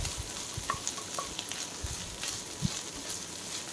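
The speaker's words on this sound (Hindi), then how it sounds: "आको आज टिके घी रे भाजी दबा।" Chopped coconut frying in ghee for poda pitha, a steady soft sizzle with faint stirring scrapes and small pops, close and alone without voices.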